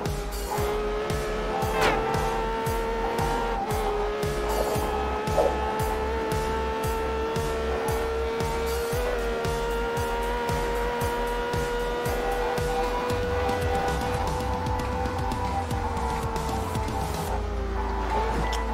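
A car races in the Test Drive Unlimited video game, its engine holding a steady loud drone throughout with shifting pitch and occasional tire squeal, no talking over it.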